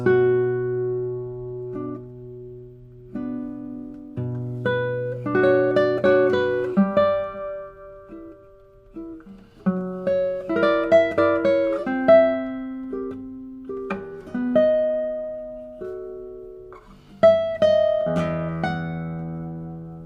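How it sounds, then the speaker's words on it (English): Plucked guitar notes on a 2016 Antonius Mueller guitar ring out one after another, each tone sustaining very long and overlapping the next in a smooth, lingering wash without any talking. "a guitar that has some sort of freak of nature piano pedal pressed while you play the notes"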